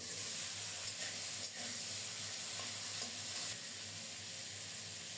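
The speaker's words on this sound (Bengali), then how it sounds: "ঢেকে ঢেকে কিছুক্ষণ ফুলকপিটাকে ভেজে নেব।" Cauliflower frying under a lid in a pan with oil, salt and a broken green chilli, giving a steady, loud, dense sizzle and hiss that carries on without a break.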